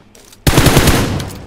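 Close, loud bursts of rapid automatic gunfire fill PUBG Mobile gameplay after a brief quieter lead-in, forming a dense, continuous rattle.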